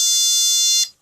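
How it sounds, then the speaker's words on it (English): A single loud, high-pitched electronic beep sounds from an early-1990s Nokia C15 bag phone as send is pressed, holding steadily for under a second before cutting off cleanly. "just hitting send. The beep is quite loud"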